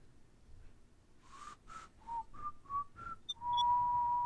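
A person whistles a short tune imitating someone else's whistling, a run of clear separate notes that ends on one long held tone, close and alone with no talk.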